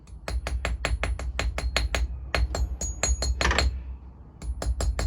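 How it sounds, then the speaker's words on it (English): Brass ball peen hammer tapping a part of a 1950s Slingerland Legion Heir snare drum during restoration, a steady run of sharp metallic taps with brief pauses and a short bright ringing clink midway. "This is a brass ball peen."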